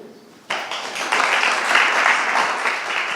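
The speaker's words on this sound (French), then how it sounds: "on peut l'applaudir" An audience applauds a speaker at a French travel and hospitality innovation talk event, the clapping bursting in suddenly and then holding steady and dense, loud and close.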